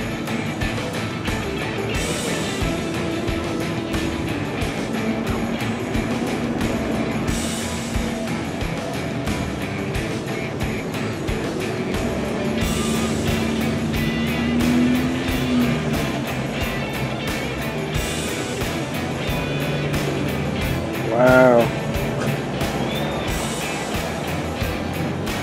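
A convoy of bug-out vehicles driving past on a road in Rogersville, Missouri, heard as a steady, continuous rumble of engines and tires at moderate distance, with a brief louder swell near the end.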